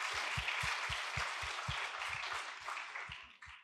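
An audience at a class or awards event applauds with a wash of steady clapping, a few distinct, rhythmic hand claps standing out near the front before it tapers off.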